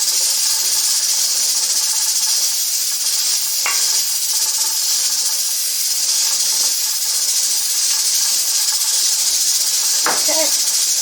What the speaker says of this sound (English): I'm just going to spray it with Pam